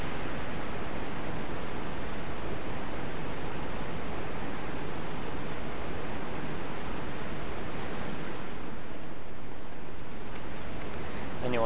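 Waterfall in the video game Dark Souls, a steady loud broadband rush that holds evenly for about twelve seconds without breaks, with no talk.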